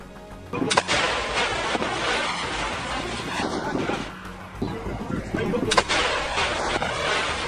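Gunfire in war footage from urban combat in Rafah, with sharp, loud blasts near the start and again later over a harsh, rumbling, noisy background.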